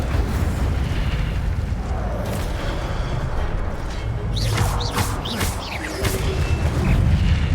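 Incendio fire spells burst repeatedly in Hogwarts Legacy, a roaring rumbling whoosh of flame with crackling impacts and rising swooshes, loud and continuous throughout.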